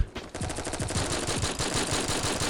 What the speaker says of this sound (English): My pistol shot is a little sloppy.